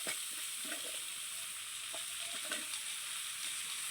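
Boiled jackfruit seeds frying with spices in a pan, a steady close hiss of oil with scattered spatters and the scrape of stirring, continuous and without any talk.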